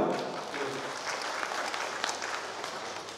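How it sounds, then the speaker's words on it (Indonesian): An audience at an umrah pilgrimage preparation gathering applauds with steady, dense clapping that holds at an even level for a few seconds, heard from within the hall. "Saya minta aplaus untuk PT Dago Wisata."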